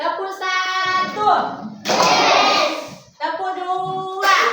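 Schoolchildren in a classroom clapping game during a religious-education lesson, bursts of group hand claps alternating with loud chanting children's voices.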